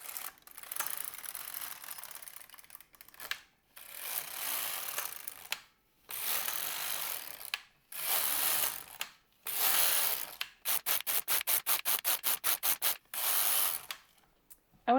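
A knitting machine carriage knits rows of yarn with wire, making repeated loud mechanical rasping sweeps with a ratcheting clatter. The passes come in separate bursts with short pauses, then turn into a fast run of short rhythmic clicks.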